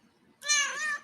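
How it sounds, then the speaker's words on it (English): A single cat meows once, a clear, fairly close, drawn-out tonal meow of about half a second rising out of near silence. "Normal cat."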